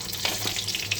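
Cumin and onion tempering frying in a pan for masoor dal with bottle gourd, a steady close sizzle with a few soft stirring scrapes, no voices.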